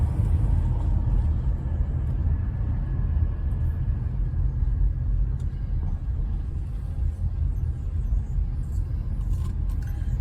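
A car driving slowly through a residential neighborhood, heard from inside as a steady low engine and road rumble with faint rattles and no one speaking.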